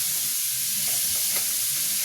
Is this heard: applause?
no